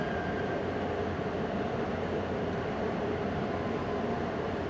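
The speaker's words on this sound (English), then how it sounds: "I think that might be a MARC train right there." A MARC commuter train rolls past near a bus shelter, a steady broadband rumble with low rail noise and a faint tonal hum holding evenly throughout.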